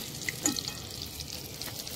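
A stuffed chilli fritter (chop) frying in oil, a soft, fairly faint sizzle with a few small pops and crackles near the start.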